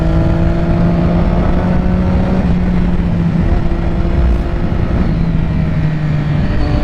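A sport motorcycle, a 2006 Triumph Daytona 675 or 2007 Yamaha YZF R6, revs high while riding, a loud sustained engine whine with steady droning tones over rushing wind noise, close and continuous.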